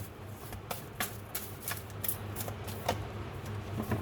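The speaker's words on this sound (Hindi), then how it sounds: "मैं कार्ड्स निकालती हूँ" Tarot cards being shuffled by hand, a run of quick papery riffles and taps repeating steadily at close range, fairly soft, with no talking.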